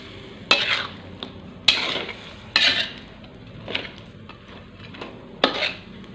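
A spoon stirs salt, seasoning, sugar and pepper into salmon in a pan for a Balinese-spiced dish, with sharp scraping strokes about once a second over a faint sizzle, close and fairly loud.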